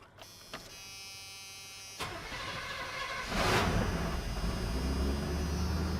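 An old Chevy square body pickup truck cranks briefly and fires up, the engine catching and settling into a steady, loud idle close by after a short starter whir.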